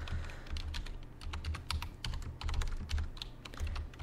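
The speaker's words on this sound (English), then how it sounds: "Let me type up one of those quick." Typing on a computer keyboard, a quick continuous patter of close key clicks with a low steady hum underneath, no voices.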